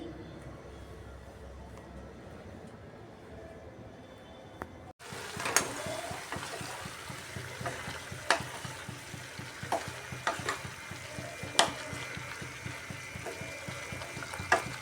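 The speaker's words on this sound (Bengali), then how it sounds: "তারপর মশলাটা ভালো করে কষিয়ে কেটে রাখা সবজিগুলো দিয়ে দিচ্ছি।" Chopped vegetables and beans land in a spiced masala and start frying, so a quiet stretch gives way to a sudden burst of sizzling, with repeated spatula scrapes and clicks as the mix is stirred.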